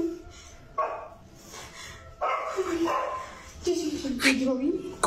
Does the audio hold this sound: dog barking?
yes